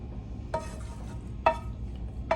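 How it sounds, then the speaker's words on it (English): Lobster and shrimp mac and cheese being mixed in a pan, three separate scraping stirs of spoon against metal at even intervals over a low background hum. "I'm gonna add it to the pan. I'm gonna mix this all together."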